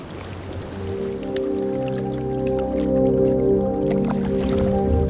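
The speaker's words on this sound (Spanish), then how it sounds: "Aquí las burbujas estallan bajo el hielo. Los icebergs exhalan, liberan el aire que quedó atrapado en el hielo" Air bubbles bursting beneath glacial ice off Greenland, a dense crackle of tiny pops and fizzing over low watery tones, continuous and close.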